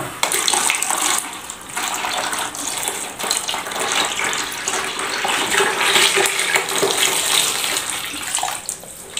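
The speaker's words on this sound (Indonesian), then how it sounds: "saya akan tambahkan air sampai gasket ini benar-benar terendam teman-teman ya" Water gushes steadily into the rubber door gasket of an LG front-loading washing machine during cleaning, a continuous close splashing pour with no voices.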